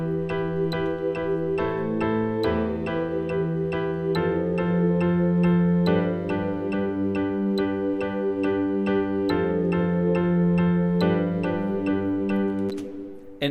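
A looping synth chord progression made in SoundTrap, sustained chords that change every couple of seconds, with steady layered tones playing alone at an even level.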